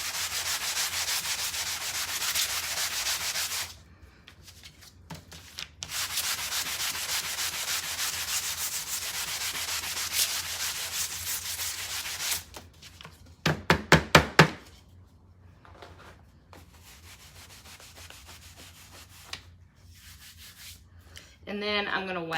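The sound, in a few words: sanding a wooden signpost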